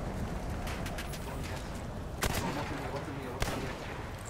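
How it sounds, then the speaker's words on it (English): Battlefield 1 artillery or field gun shell explosions, a constant roar of battle with two sharp, loud blasts standing out, the first a little over two seconds in and the second shortly after. "he's using explosives. Either artillery or a field gun."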